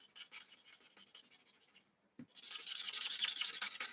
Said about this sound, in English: Almost just scrubbing back and forth against those lines.